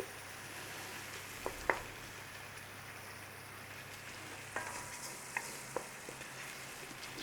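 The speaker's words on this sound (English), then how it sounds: "Just give that a little blooming in there. Nice and steady, bloom out your spices." Chili powder and spices bloom in hot oil in a pan, a steady soft sizzle broken by a few light clicks and stirring taps, close and moderately quiet.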